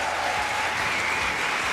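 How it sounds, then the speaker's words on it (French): A studio audience on a French television talk show claps in a brief, dense, steady burst of applause that fills the room without pause. "On peut l'applaudir."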